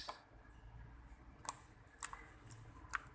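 Homemade slime being handled, giving soft, sharp clicks and pops at irregular intervals over faint background hiss.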